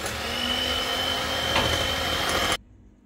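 Cake batter is whisked right after sunflower oil is poured in. A loud, steady whirring churn runs for about two and a half seconds and then cuts off sharply.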